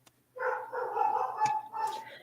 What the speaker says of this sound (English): That's a big girl bark if I ever heard one.